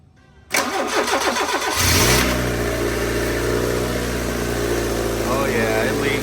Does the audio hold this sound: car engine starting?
yes